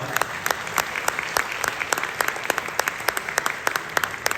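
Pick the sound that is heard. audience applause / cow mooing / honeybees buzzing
audience applause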